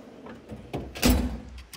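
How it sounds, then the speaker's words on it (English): The bottom drawer of a diesel technician's new tool box slides open with a short rolling rumble and a soft thump near the end, close and fairly loud. "Moving on down to the final bottom drawer."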